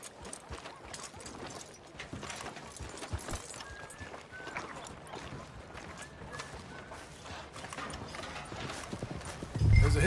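In the Red Dead Redemption 2 video game, a horse's hooves clip-clop steadily at a walking pace, fairly quiet and continuous, with a louder thump at the very end.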